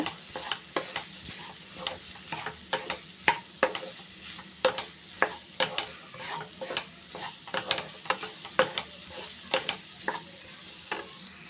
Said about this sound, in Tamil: ஒரு டூ மினிட்ஸ் வந்து அப்படியே எண்ணெயிலே நல்லா வதங்கட்டும்